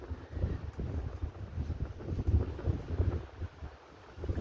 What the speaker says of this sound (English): But it's so windy